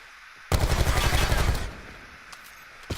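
Rapid burst of automatic gunfire from a gun in Call of Duty Black Ops, loud and close, lasting about a second before cutting off, followed by a faint single pop.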